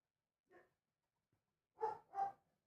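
A dog barks indoors at a distance, one short yip followed by two quick, louder barks, with quiet gaps between them.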